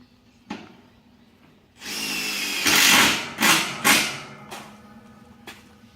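A power drill whirs in several short bursts, one longer run followed by quicker pulses, driving screws into the timber of a horse stable panel at close range with quiet pauses between.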